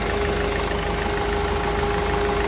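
A Ford EcoSport Titanium engine idles smoothly with a constant low hum and faint mechanical ticking, close by, with no talking.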